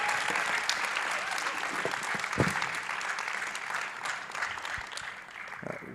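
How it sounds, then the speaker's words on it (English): Audience applause for a speaker at the Devcon SEA conference, a steady wash of clapping from a sizable crowd that holds at even loudness from start to finish. "Can we get a final round of applause for our wonderful speaker?"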